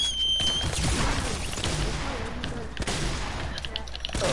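Automatic rifle and pump shotgun fire in a Fortnite match, a dense run of rapid shots and bursts throughout, with voices chatting over the gunfire.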